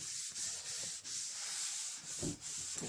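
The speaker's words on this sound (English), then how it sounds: "So I'm just continually wiping this whole thing down." A cloth rubbing steadily across a salvaged wood countertop, a soft continuous hiss of wiping strokes with slight swells and dips as the hand moves back and forth, close by with no voices.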